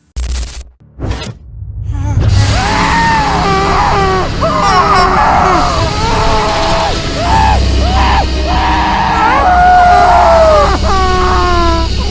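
A man's prolonged, anguished screams and yells of horror rise after a sudden whooshing burst, loud and continuous over a low rumbling dramatic background, with strained cries that waver and repeat.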